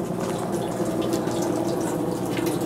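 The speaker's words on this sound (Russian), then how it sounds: "В одном даже вода не выключается вообще." Tap water running steadily into a sink at a washroom in a seaside campground that won't shut off, a constant close hiss with no voices.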